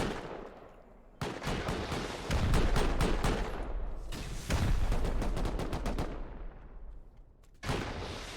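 Sustained bursts of gunfire aimed at base turrets during a Rust 8v8 base-raiding tournament match, loud rapid volleys in two long stretches with a brief pause between and another burst at the end.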